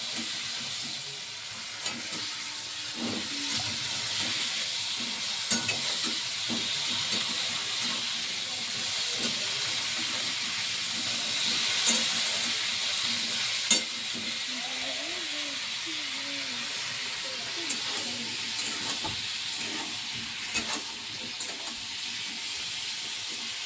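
Potatoes, papaya and green chillies frying in a pan, a continuous hiss and sizzle running for the whole stretch with scattered clinks and stirring knocks, fairly near and unbroken.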